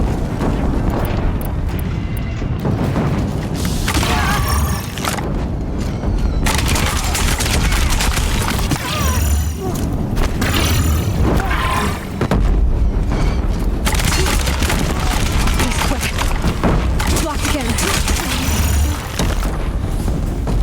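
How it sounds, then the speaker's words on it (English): Deathbringer machines in Horizon Zero Dawn fire at a bridge, producing a loud, dense barrage of booming blasts and rapid gunfire that continues throughout without pause. "If the Deathbringers keep firing, this bridge will go."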